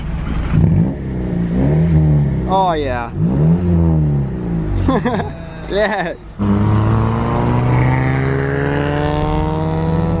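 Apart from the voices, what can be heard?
Honda Civic engine revving with muffler delete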